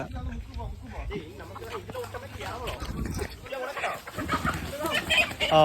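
A native country chicken being caught outdoors clucks and squawks nearby amid rustling and movement, with people talking over it.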